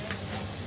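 Potatoes frying in fish oil in a pan, a soft steady sizzle with faint crackling held evenly throughout, quiet and close with no talk.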